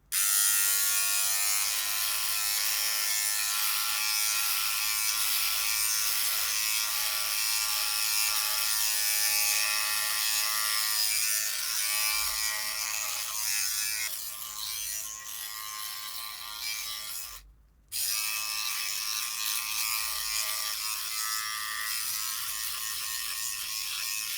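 Philips Body Groomer 3000 electric trimmer shaving bare chest hair without a comb, a close, loud, steady motor buzz with a brief cutout near the end before it resumes.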